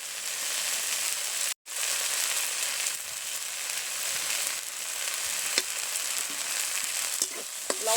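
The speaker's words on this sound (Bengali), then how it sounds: "লবণ হলুদ দিয়ে হালকা করে একটু ডালটা ভেজে নিয়েছি" Lentils fry in a pan with salt and turmeric, a steady close crackling sizzle broken by one abrupt silent gap, with scattered sharp pops and stirring scrapes near the end.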